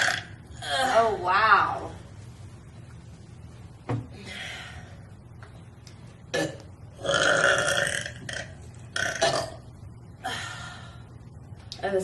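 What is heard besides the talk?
loud burping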